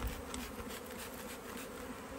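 Honey bees in a package bee cage buzz continuously at close range, a steady droning hum with small swells, and no one speaks over it.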